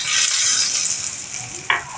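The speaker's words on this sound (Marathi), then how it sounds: "तयार दह्यावर आता ही मी फोडणी घालणार आहे" Hot tempering of curry leaves and asafoetida poured onto yogurt for a brinjal dahi chaat, giving a steady close sizzle with a sharper crackle burst near the end, no talk.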